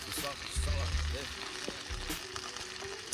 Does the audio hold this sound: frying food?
yes